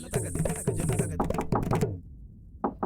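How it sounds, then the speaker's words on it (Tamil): Knocking on a door in a Tenali Raman TV episode: several sharp raps land over fading music, then the music cuts and a couple more knocks sound alone. "கதவை தர யாரோ வந்திருக்காங்க"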